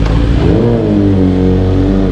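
A sportbike engine, a Suzuki GSXR1000 or BMW S1000RR, revs hard up close, a loud, rising whine whose pitch climbs steeply and then holds high.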